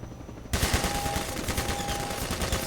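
Rapid gunfire in the Half-Life 2 video game during a helicopter chase, a dense continuous burst of shots that kicks in suddenly and keeps going loudly with no pause.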